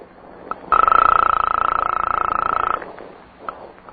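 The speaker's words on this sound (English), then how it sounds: "Phone call soon after I got there." A telephone rings once in a continuous buzzing electric trill lasting about two seconds, loud and close, against a quiet background.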